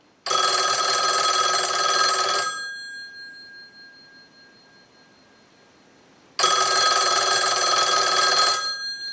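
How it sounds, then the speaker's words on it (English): A single-slot touch-tone payphone's bell rings under an analyzer's ring cycle, two loud clanging bursts of about two seconds each, separated by a few seconds of quiet. "So we'll go ahead and start a ring cycle and ring it with the analyzer."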